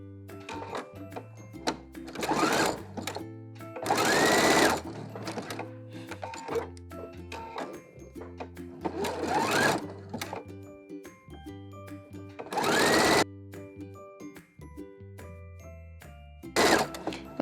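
Sewing machine stitching stretchy knit fabric for a DIY bralette, a steady mechanical whir in repeated bursts with louder surges and pauses between runs, alone without talk.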